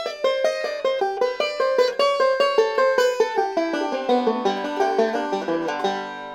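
A banjo plays the closing lick of a solo, a quick run of crisp plucked notes that steps downward and rings out at the end, close and solo with no voices.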